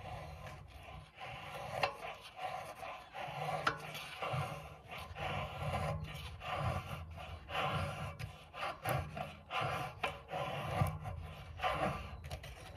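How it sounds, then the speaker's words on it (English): A Mora Garberg knife carves shavings from a stick of fatwood, giving a steady, close scraping and rasping of blade on resinous wood in repeated short strokes without pause, with no voices. "Now we're gonna make some shavings."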